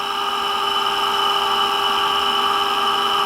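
An electric drive motor turning a load at a steady 1500 RPM gives a continuous whine with stable tonal hum layered over broadband noise, loud and unchanging throughout.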